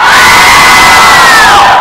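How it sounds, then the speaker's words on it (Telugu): A loud live studio audience shouts and roars together in a sustained, dense wall of voices, with one held cry rising above the crowd noise, continuous for about two seconds. "అరుపులు వినిపిస్తాయి. ఎలా అరవండి ఒకసారి"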